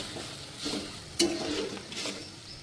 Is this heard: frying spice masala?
yes